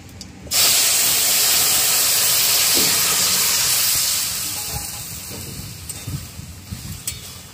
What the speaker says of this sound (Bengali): ফোড়নটা রেডি হয়ে গেছে, এবার তরকারিটার মধ্যে ঢেলে দেবো